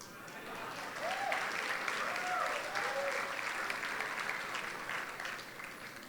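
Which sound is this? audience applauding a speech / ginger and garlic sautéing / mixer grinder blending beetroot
audience applauding a speech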